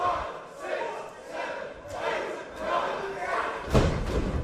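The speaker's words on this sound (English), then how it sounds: "a great drop kick from Generico" A drop kick by El Generico landing on Kenny Omega in a wrestling ring produces a heavy thud near the end, over a loud, surging crowd of shouts and cheers at a 2008 independent show.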